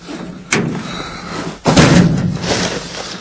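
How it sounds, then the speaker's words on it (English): Someone forces a snow- and ice-bound door in a freezing Pennsylvania winter, with a sharp thump near the start and a louder, longer rattling scrape and bang partway through, all close and loud. "If I can't get this door open, this is going to suck."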